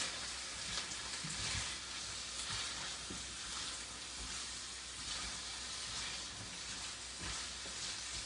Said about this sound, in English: Can you hear the sizzling? Can you hear it cooking?